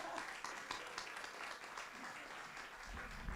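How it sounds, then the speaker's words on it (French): Warm applause from a conference hall audience greeting speakers at a farming colloquium, a steady, fairly quiet patter of many hands clapping, with a low thump near the end. "Vous pouvez les applaudir bien fort"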